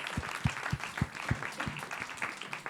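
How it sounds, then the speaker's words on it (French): Audience at a French talk event applauding together, a modest crowd clapping with a few distinct, rhythmic low thumps standing out near the microphone. "qu'on s'applaudisse tous ensemble pour ce moment que vous m'avez fait vivre"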